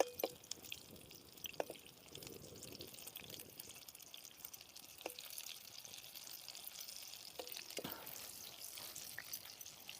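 Moringa pod fritters deep-fry in hot oil, a faint, steady crackle and sizzle with scattered small pops, quiet and close with no voices.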